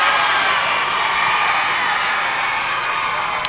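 A Tuscola Mountaineers football crowd cheers steadily at a homecoming game, heard from across the field as a broad, continuous roar that stays constant throughout.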